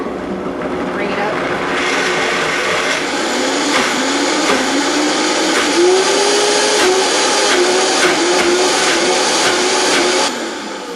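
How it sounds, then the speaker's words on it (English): A Vitamix blender whirs steadily at high speed, blending chickpeas into hummus, with a loud continuous motor drone whose pitch climbs gradually as it runs for about ten seconds. "let the Vitamix do all the work in about a minute"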